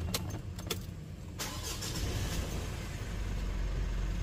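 Mitsubishi Montero with a 4M15 diesel engine cranking and catching, a few sharp starter bursts giving way to a steady low rumble at idle, heard close with no talk.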